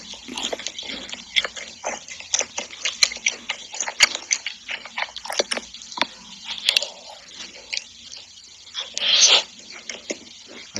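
Crunchy chocolate being eaten close to the mic, a dense run of sharp crisp bites and wet chewing clicks, irregular and intimate, with a brief louder crunch burst near the end.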